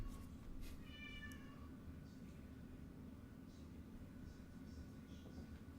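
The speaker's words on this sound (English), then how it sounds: "My cat's out there meowing." A cat meows outdoors, faint and distant, with one short call near the start over steady low background hum.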